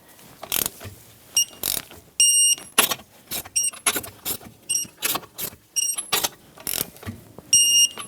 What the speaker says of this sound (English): the torque spec for this Nissan Rogue is 80 foot-pounds for the lug nuts, 21 millimeter socket, and we're going to go in a star pattern